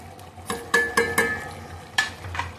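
Curry being stirred in a pot after coriander powder and garam masala go in: a few soft scraping and clinking strokes of a spoon against the pan, close and fairly quiet, with no talking.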